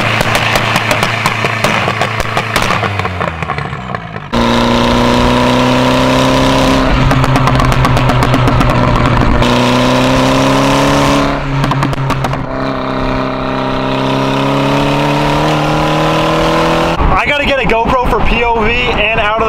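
A loud car engine roars and revs through several gear changes, with brief pops and bursts between pulls, close and dominant.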